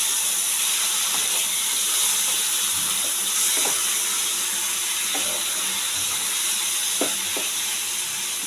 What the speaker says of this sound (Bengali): মশলা বাটি দিয়ে একটু জল দিয়ে দিলাম।